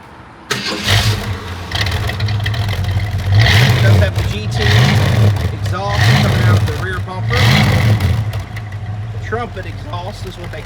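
A Ford Mustang convertible with a 289 V8 and trumpet exhaust cranks and fires up, then settles into a lumpy idle with several sharp revs rising and falling; loud and close, with a few spoken words between.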